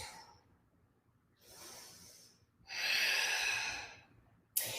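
Slow, deep breaths during a yoga twist in an all-level vinyasa class: a soft airy exhale, a pause, a stronger rushing breath building to a loud sustained exhale, then a sharp new intake at the end, close and with no talk.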